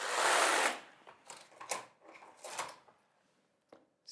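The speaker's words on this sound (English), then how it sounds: "Zigzag row to cast on." Knitting machine running a zigzag cast-on row for a sock, a brief louder carriage swish at the start followed by faint, scattered clicks and rustles of the mechanism.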